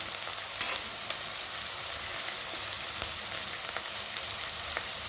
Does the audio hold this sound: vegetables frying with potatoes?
yes